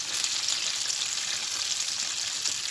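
Golden, crispy chicken broast pieces fry in hot oil with a steady, dense sizzle and crackle that holds at an even level throughout.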